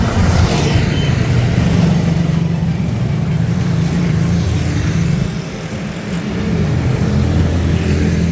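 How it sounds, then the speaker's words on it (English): Ford vans, rickshaws and motorbikes roll past on a busy Pakistani street, a steady loud rumble of engines and tyres with a brief dip in level before traffic swells again. "There goes another Ford."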